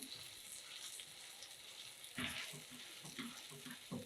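Chicken chapli kebabs frying in a pan, a faint steady sizzle with a soft clunk partway through, close and quiet.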